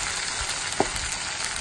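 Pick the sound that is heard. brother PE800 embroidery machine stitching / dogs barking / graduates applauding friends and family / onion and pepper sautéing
onion and pepper sautéing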